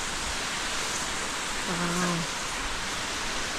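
A small mountain creek near a footbridge flows with a steady broadband rush in the Swiss Alps around Mürren and Gimmelwald, a person briefly exclaiming over the constant water noise.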